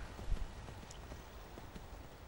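Horse hooves clip-clop in The Elder Scrolls V: Skyrim, a soft steady rhythm of hoofbeats over a low, rumbling background, moderately distant and with no talking.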